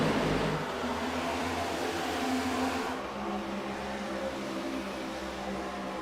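Race cars roar around an oval track in a pack, their engines forming a continuous loud drone that shifts pitch slightly as they pass.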